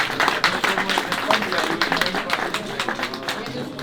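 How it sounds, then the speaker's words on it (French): Audience applause from a crowd gathered at a cycling heritage event for the Paris–Rouen velocipede ride at Pont-de-l'Arche, with dense, steady clapping carrying on throughout at a fairly close, even level. "et je crois qu'on peut vraiment les applaudir"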